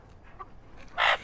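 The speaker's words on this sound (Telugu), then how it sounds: "భలే ఉంది కోడి. ఇది ఏం కోడి ఇది జాతి?" A chicken gives a few soft, short clucks near by in a small room, followed by one louder, sharper squawk near the end.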